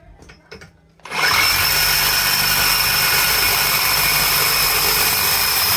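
A Metabo HPT 36V cordless power tool on a fully charged standard 4 Ah battery starts abruptly after a second of quiet and runs loud and steady through 1.25-inch black iron, a continuous high whine with no talk.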